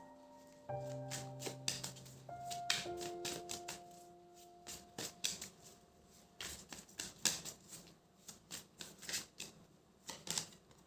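Tarot cards shuffled by hand during a reading, a quiet run of crisp riffling and slapping bursts with irregular rhythm, close up, preceded by a few soft sustained tones and with no talking.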